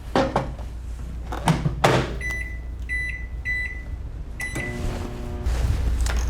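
A microwave oven heats a jar of sugaring paste: door thunks, a series of keypad beeps, then the oven's steady hum starts and runs on, close and clear.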